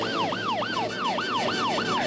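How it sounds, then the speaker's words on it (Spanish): Police patrol car siren on a road, wailing in a steady rising-and-falling sweep that repeats about every quarter second, loud and close, with faint traffic noise underneath and no talking. "Ahí viene una patrulla."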